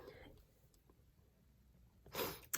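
A single sharp, loud sneeze bursts out near the end after a quiet stretch of faint breathing.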